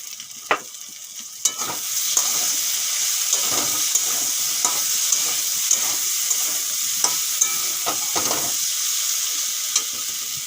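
Slit green chilies tossed into fried taro (kochu) in hot oil give a loud, steady sizzle throughout, broken by repeated scraping stirs of a spatula against the pan, with no talking.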